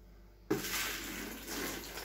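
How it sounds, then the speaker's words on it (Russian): Water is poured into a mixture being prepared, starting abruptly as a steady broadband splashing stream that runs continuously near the microphone with no speech. "Так, теперь воду вливаем."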